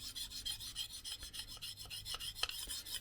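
A convex-ground bushcraft knife is sharpened on a 1200 grit stone, with quick, even rasping strokes repeating close up about three times a second and no voices.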